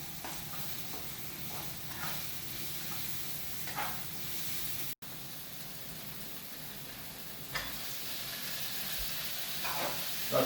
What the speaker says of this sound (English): So you just fry the onions to become a bit translucent.